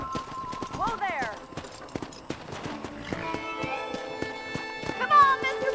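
Hooves clip-clop rhythmically as a horse gallops in the Western video game Red Dead Redemption, with a character shouting over the hoofbeats and a whinny rising early on.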